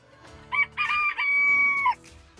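A rooster crows loudly and close by inside a chicken coop, one long, sustained cock-a-doodle-doo with no talking over it.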